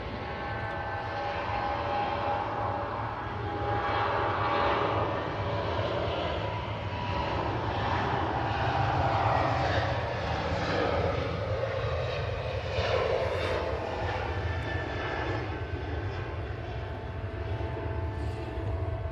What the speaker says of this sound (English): I've got a Dreamliner pushing back.